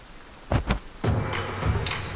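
Rain in a video game with thunder, a couple of sharp bursts followed by a steady wash of rainfall and rumble, fairly near and loud, with no speech.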